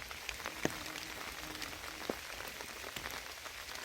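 Spring rain falls steadily outdoors in farm country, a continuous patter of drops on surfaces with a few sharper nearby splashes.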